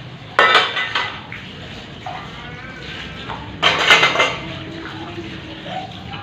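Dishes, pots and pans being washed by hand in a Pakistani village home, with sharp clattering bursts of metal utensils, water running between, and quieter rinsing moments.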